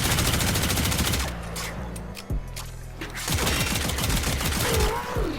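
Prisma Tetra rifle fire in the video game Warframe, heard as dense, rapid automatic bursts that run loud and near for most of the stretch, with a short lull in the middle before firing resumes alongside other game effects.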